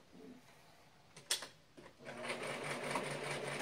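Sewing machine running a straight stitch to close a small gap in a tulle underskirt waistband, a faint start followed by steady continuous whirring with a few soft clicks, fairly quiet.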